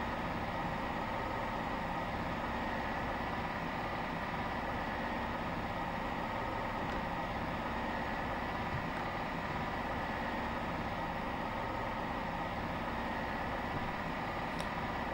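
Locomotive engine idling steadily in Train Sim World on the West Somerset Railway, a low, continuous rumbling drone with an unchanging hum throughout and no other sounds.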